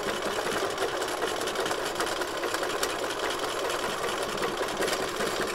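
A sewing machine runs a steady zigzag stitch over the raw edge of fabric, a continuous close whirring buzz that holds even and loud throughout with no talking.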